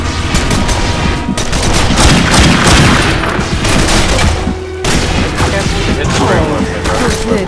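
Rapid sustained gunfire from an infinite-ammo weapon in the shooter game The Darkness 2 rattles loud and dense, with bursts of shots and booming impacts, one brief pause, then more firing.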